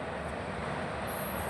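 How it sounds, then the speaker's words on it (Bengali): A train passes close to a station, a loud, steady rumbling roar that fills the whole moment without letup, with no voices over it. "ট্রেন যাচ্ছে আসছে যাচ্ছে আসছে"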